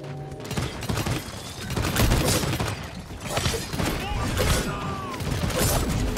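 Weapon fire in the hero shooter Paladins, bursts of rapid shots and impacts crowding the mix, loud and near, with a voice talking intermittently over the clatter.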